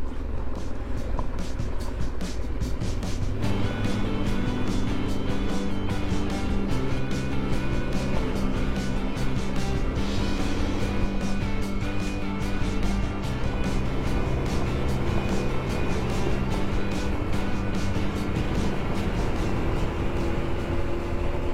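An off-road vehicle runs fast along gravel tracks in the Pyrenees, with a continuous loud engine drone, tonal whine and steady crackle of gravel under the tires from start to end.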